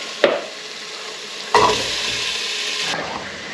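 Rice frying in a pot with potatoes, paneer and peas gets stirred in two sharp scraping bursts, each followed by a steady sizzle, with a faint clink near the end and no voices.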